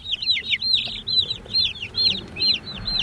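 Young meat chickens, a little over two weeks old, give a rapid series of high, bright peeping clucks, close and fairly loud over a soft low background hum.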